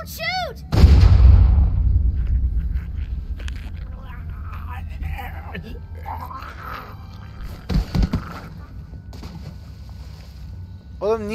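A single loud gunshot bursts out in a tense Walking Dead video game scene, ringing out with a heavy low boom, followed by shouting voices and scattered game sounds.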